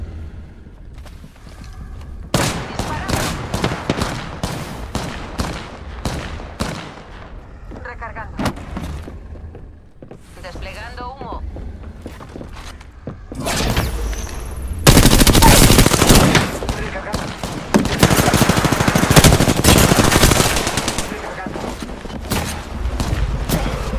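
Gunfire in the Apex Legends video game: repeated sharp shots and automatic bursts throughout, growing into loud, dense firing in the second half, with people talking over it.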